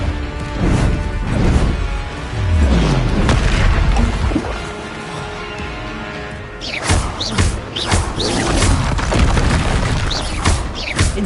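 Repeated Confringo fire blasts in Hogwarts Legacy, heavy booming explosions with crashing debris, one loud cluster early, a lull, then a fresh volley of sharp impacts near the end, no voices.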